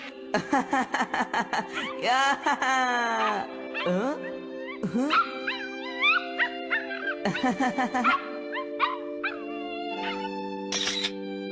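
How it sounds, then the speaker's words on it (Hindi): Cartoon dog barking, yipping and whimpering, with high, whining cries and howl-like tones in a series of short bursts and longer wails, close and fairly loud. "अभी मैंने एक डॉग की आवाज सुनी।"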